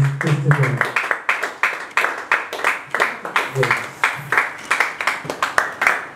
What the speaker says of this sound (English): A round of applause as we welcome our executive director